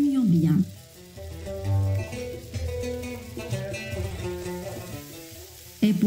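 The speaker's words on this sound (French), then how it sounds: "Vous allez retourner la viande avec les pommes de terre jusqu'à ce que toutes les saveurs soient homogènes." Meat and potatoes sizzle in a pan while being stirred for a Yemeni zurbian dish, a steady close frying hiss with scraping, under a music-like tonal layer.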